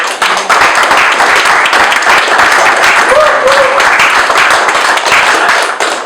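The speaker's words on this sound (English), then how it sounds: "I do think we need to, again, give Gary a round of applause" A conference audience gives a sustained round of applause at a closing session, with dense, steady clapping that fills the room loudly and evenly for several seconds.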